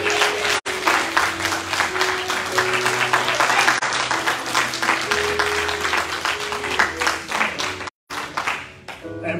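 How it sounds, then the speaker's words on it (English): A church congregation claps in praise for the preacher at a homecoming service, sustained dense applause with sustained organ-like tones underneath, briefly dropping out twice. "would you give him a hand and clap of praise?"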